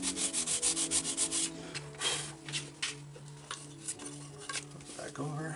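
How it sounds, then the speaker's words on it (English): Sandpaper rubbed by hand over a GreatPlanes PT-20 model airplane on floats, starting with a quick run of even rhythmic strokes and then turning to slower, irregular scrubbing passes, close and fairly quiet. "A little sandpaper."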